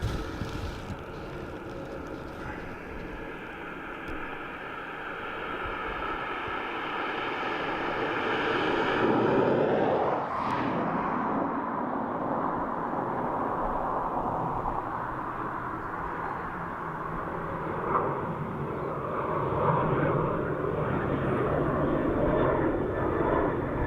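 A Ryanair airliner passes at Dublin Airport with a loud, sustained jet engine roar that swells and shifts in pitch midway, heavy wind buffeting the microphone throughout.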